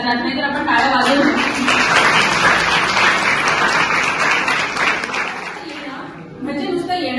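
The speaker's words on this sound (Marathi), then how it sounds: "तर आपण टाळ्या वाजवू।" An audience at a college Shivaji Jayanti celebration breaks into applause, a broad sustained clatter of many hands that swells, holds, then fades, with a voice speaking at the start and again as the clapping dies away.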